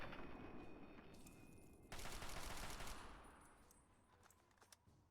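Rapid automatic gunfire from the video game Fallout 3 rattles in a dense burst, growing louder partway through and then trailing off into scattered shots, with no talk over it.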